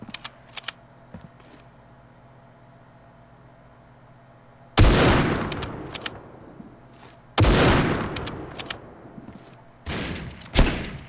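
Video game gunfire in three loud, sustained bursts of rapid shots with quieter gaps between them, all close and dense, with no talking over it.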